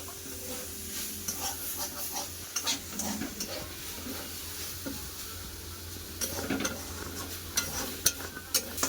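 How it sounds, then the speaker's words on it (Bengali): Water spinach with poppy seeds frying in a pan, a gentle continuous sizzle with irregular scraping and tapping of a spatula, some louder clinks near the end. "পোস্ত দিয়ে কলমি শাক ভাজা হয়ে গেছে আমার"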